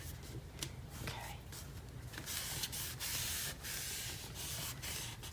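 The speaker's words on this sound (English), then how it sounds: "Just burnishing really well up around this point so that the magnet is well sealed in" Paper being burnished down firmly over a magnet on a handmade mini album page, a steady close dry rubbing and scraping that runs continuously, with a few quieter pauses.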